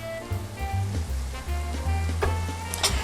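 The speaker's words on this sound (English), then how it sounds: "Now I'm going to stir this" Frozen peas, carrots and drained sliced mushrooms sizzle in a pan while a utensil stirs them, giving steady frying crackle with scraping knocks and pushes at irregular intervals, close and moderately loud.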